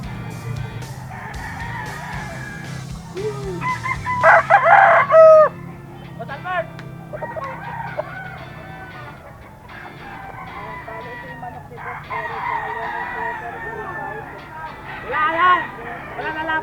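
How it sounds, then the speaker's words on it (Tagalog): Gamecock roosters crow repeatedly at close range, several long calls overlapping with someone talking steadily over them and faint clucking in the background. "Ito yung mga manok ni Boss Eric mga idol, oh"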